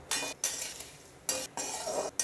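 Roasted puffed rice chivda with turmeric being stirred in a pan for a Gujarati Holi snack: several short scraping, rustling bursts separated by brief pauses, fairly close and moderately quiet, with no voices.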